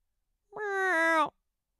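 A human voice imitates a cat's meow, recorded as part of a beatboxing loop on a busy street: one drawn-out, close, fairly loud nasal meow lasting under a second, with nothing else around it.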